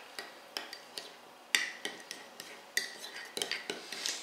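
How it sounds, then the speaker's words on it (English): A utensil stirs a maple syrup and spicy mustard glaze in a pan, making a series of close, irregular metallic clinks and scrapes at a quiet level. "Give it a quick stir."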